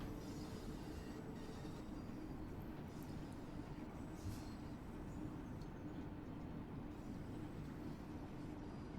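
London Underground 1972 tube stock on the Bakerloo Line in Train Sim World 2, running with a steady, even rumble of wheels and motors and faint squeals, no voices.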